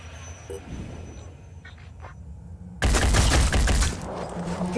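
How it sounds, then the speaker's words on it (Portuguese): Gunfire erupts at the Acheron boss in the strategy game Phoenix Point: after a quiet stretch of soft ambience, a sudden loud, dense burst of rapid shots fills the rest of the moment. "Acho que o certo é atirar no chefão"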